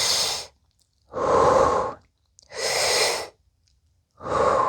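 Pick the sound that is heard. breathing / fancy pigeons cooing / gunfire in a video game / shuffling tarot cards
breathing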